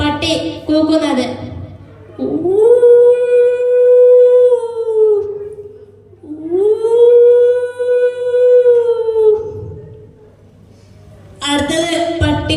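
A person at a special school Christmas celebration imitates a dog howling, with two long rising-then-falling wailing howls in the middle and a speaking voice before and after.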